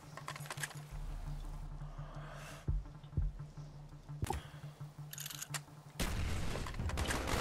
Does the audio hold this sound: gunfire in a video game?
yes